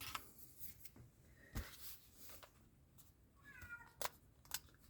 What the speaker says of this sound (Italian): il mio meraviglioso gatto tigrato europeo di poco più di 2 anni, Michelangelo